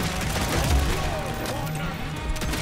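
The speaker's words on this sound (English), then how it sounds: "Guns are blazing." Gunfire rattles on in a video game, with dense overlapping shots and bursts that keep up continuously under a busy, noisy mix.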